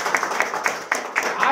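An audience at a school ceremony in Guna gives hearty applause to welcome an honoree, steady rhythmic clapping, close and fairly loud, with some voices mixed in.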